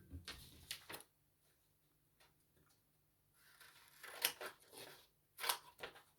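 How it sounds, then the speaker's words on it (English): Scissors snip through a paper rectangle being cut out for a handmade envelope, with a few short, crisp cuts separated by quiet pauses. "So you need to cut that rectangle out."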